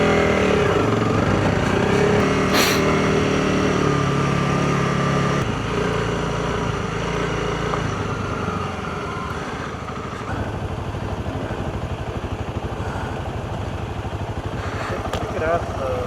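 Off-road motorcycle heading out onto trails at Bragg Creek, a steady engine rumble and revving under close talking, with the engine note shifting as the ride gets going.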